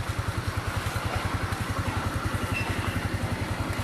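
A motorcycle engine idles steadily with a fast, even low putter and light mechanical clatter, heard close and alone at moderate level.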